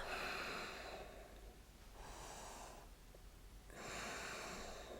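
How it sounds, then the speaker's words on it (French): Slow, deep breathing during a yoga exercise, with three audible breaths, each a soft airy rush through the nose separated by brief pauses, close and quiet. "Et on respire"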